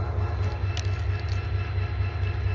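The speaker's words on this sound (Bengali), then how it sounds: "আমি আছি তালশহর রেলওয়ে স্টেশনে।" A train at Talshahar railway station in Brahmanbaria, Bangladesh, a loud steady low rumble with rhythmic wheel clatter, close by and with no voices.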